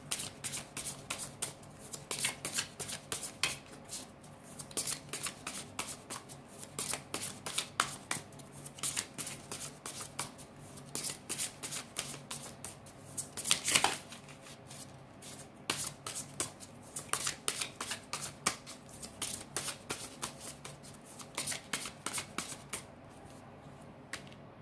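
A Rumi Oracle card deck is shuffled steadily for a long stretch, giving dense, rapid riffling and flicking of cards close by, with occasional louder slaps and no talking.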